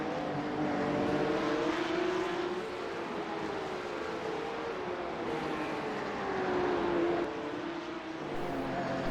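Porsche Cup Challenge race cars circling the track at Belle Isle, a continuous engine drone with rising and falling pitch as several cars pass at middle distance, with no voices over it.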